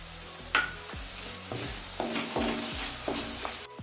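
Ginger garlic paste hits browned onion paste in a hot pan, giving a steady close sizzle with a handful of scraping stir strokes roughly every half second, no voices.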